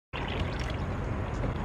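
Water pours steadily into a car, likely its radiator or coolant reservoir, a loud continuous splashing gush that starts abruptly and runs without a break.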